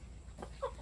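A chicken in a coop with empty nest boxes gives a short, moderately loud cluck over a quiet background.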